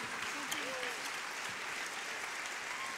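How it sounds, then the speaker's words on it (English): Audience applause at a community event, a steady dense clapping wash from a crowd that runs the full length, with a voice briefly rising over it near the start. "Another big round of applause."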